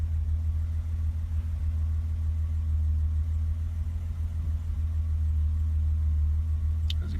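A 1988 BMW 325 sedan idles steadily a few minutes after a cold start, a low, even engine hum that holds constant throughout with a faint click near the end.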